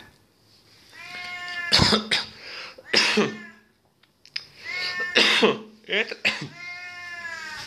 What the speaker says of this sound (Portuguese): como você vê, é um gato